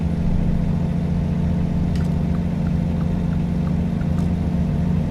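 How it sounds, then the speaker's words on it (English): An in-cab truck engine in American Truck Simulator drones steadily with a tinny, echoing quality, a constant mid-low hum with a few faint ticks and clicks over it, no talking. "There's a lot of reverb in that engine."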